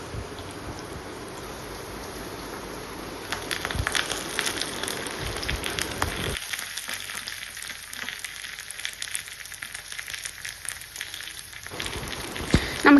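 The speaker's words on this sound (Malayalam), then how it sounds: "കൊച്ചുള്ളി നുറുക്കിയതും കറിവേപ്പിലയും കൂടി ഇട്ട് നമുക്കതൊന്ന് താളിച്ചതിന് ശേഷം നമ്മുടെ കറിയിലേക്ക് ഒഴിച്ചു കൊടുക്കാം" Sliced shallots and curry leaves sizzling in hot oil for a tempering to pour over a Kerala-style raw mango and drumstick curry: a steady crackling spatter up close, shifting in texture midway, with no speech.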